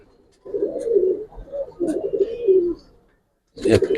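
Giribaz pigeons coo close by in three throaty, rolling bursts separated by short pauses, each call a low burbling murmur.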